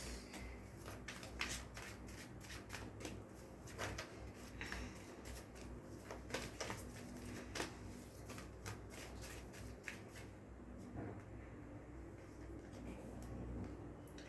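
Tarot cards riffle and slap softly as a deck is shuffled and cards are drawn, a steady run of light papery flicks and taps at close range over a faint background hum, with no talking.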